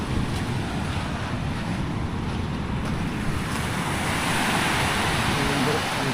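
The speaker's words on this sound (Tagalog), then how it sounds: "Grabe yung alon, tunog ng alon" Ocean surf rolls in a steady broadband wash around a small oarless paddle boat out on the sea, with wind buffeting the microphone throughout and no clear breaks between the waves.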